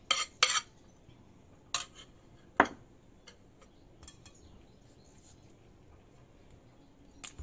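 A utensil stirring crème fraîche into a chocolate mousse mixture in a bowl: a few close clinks and scrapes early on, then faint scattered ticks, no talking.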